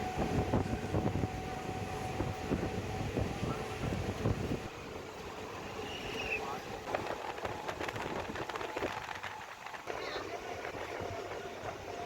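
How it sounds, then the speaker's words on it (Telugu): A MEMU commuter train pulls out of Bhuvanagiri station on the Secunderabad–Warangal line, giving a steady, loud rumble of rolling stock and wind-like rushing that stays continuous throughout. "భువనగిరి రైల్వే స్టేషన్ నుంచి వెళితే ట్రైన్ స్టార్ట్ అయింది."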